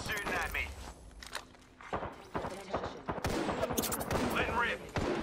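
Gunfire in the video game Apex Legends during a squad match, heard as scattered shots and short bursts amid footsteps and game effects, with a voice talking over much of it.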